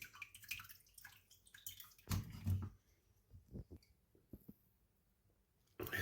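Water drains from a hollowed calabash fruit through a strainer, a close wet rush and trickle breaking into scattered drips and gurgles, then a renewed splash at the end.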